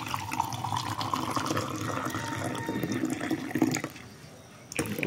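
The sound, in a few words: water running from a tap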